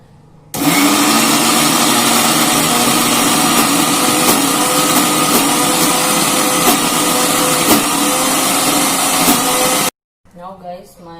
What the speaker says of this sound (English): Now I'll add all this into the grinder for the hummus